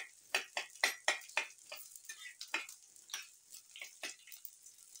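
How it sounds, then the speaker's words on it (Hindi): Onion and chili frying in oil in a home kitchen, a rapid series of sharp scraping stirs over a faint sizzle, close, rhythmic strokes roughly every quarter second, no talking. "पियाज लंका को मु तेल रे भाजी"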